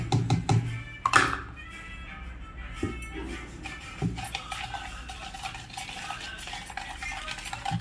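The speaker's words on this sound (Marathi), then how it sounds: "दही आणि साखर छान व्यवस्थित एकमेकांमध्ये मिक्स होतील ह्या पद्धतीने पेटून घेते मी" A spoon beats yogurt and sugar together in a bowl for an eggless chocolate cake made in a kadhai, giving steady scraping stirs and a few sharp taps against the side, up close and with no talk.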